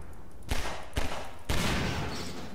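Gunfire in a minimalist video game, three loud bursts of shots roughly half a second apart, each a sharp crack trailing into noisy decay, with no talking.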